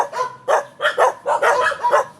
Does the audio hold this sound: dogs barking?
yes